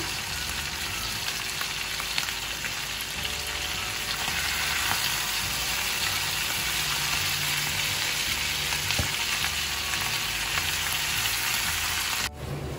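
Beef pasanday frying in a pan, a loud, steady hiss of oil crackling close by for several seconds, with faint scattered pops and a brief clatter near the end.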